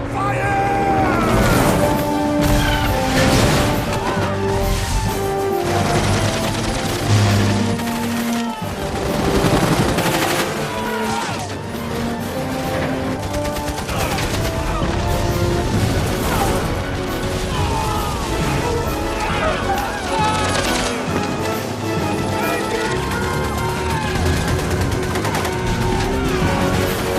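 A loud battle scene with sustained machine-gun fire, crashes and booms filling the soundtrack without a break. Shouting voices and dramatic music run under and over the gunfire.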